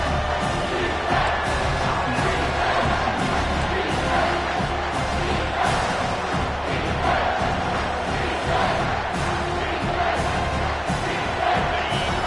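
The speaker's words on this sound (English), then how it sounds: "Third down, and this crowd is tearing the lid off this place." Dense, loud crowd roar filling a football stadium during an Ohio State vs TCU game, swelling on third down and sustained across the whole stretch without a break.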